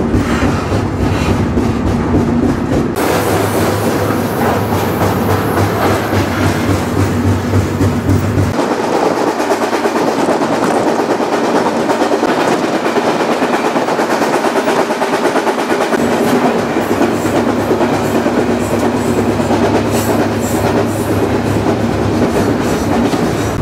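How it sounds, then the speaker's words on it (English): A freight train rumbles steadily along the rails near Meridian, Mississippi, loud and continuous, with rhythmic clattering wheels and shifting roar throughout. "Finally, the train started making progress."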